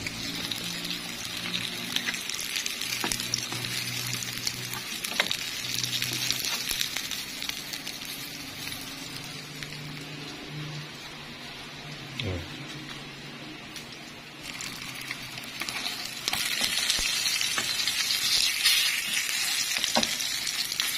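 Steady, close sizzling of food frying in hot oil, a dense crackling hiss with occasional pops and stirring clatter, no voices.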